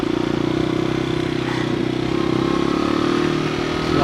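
A motorcycle travels over a rough stone highland road near Santo Domingo, Batangas, its engine droning steadily and loudly up close with a rattling clatter from the bumpy surface.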